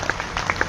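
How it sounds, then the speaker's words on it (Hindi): Applause from a large audience at a lively motivational event in Agra, a short stretch of dense clapping under a sustained crowd roar. "एक बार उस पिता के लिए भी तालियां बजा दो, उस मां के लिए भी तालियां बजा दो।"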